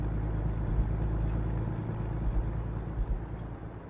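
A heavy truck cruising on a highway in American Truck Simulator, hauling a 35-tonne load: a steady low engine drone with a deep rumble and tyre roar, close and constant throughout.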